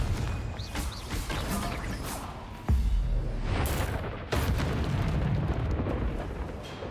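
Confringo explosive spell in Hogwarts Legacy erupting with a sudden booming blast, followed by a second hit and rumbling debris under continuous game ambience.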